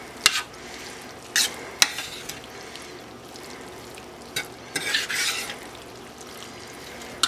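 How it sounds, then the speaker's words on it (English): A utensil stirs parsley into sumac chicken with pine nuts in a pan, giving a few sharp scrapes and clinks over a faint background sizzle. "A nice handful of parsley. Give it a stir."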